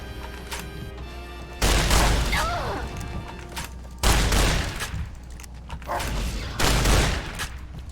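Several heavy shotgun blasts in Fallout: New Vegas, about three loud booming bursts spaced a couple of seconds apart over steady background game sound.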